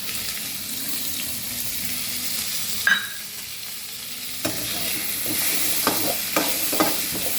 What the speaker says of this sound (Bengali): আমি দিয়ে দিলাম আলু আর কড়াইশুঁটি। এটা এখন ভাজবো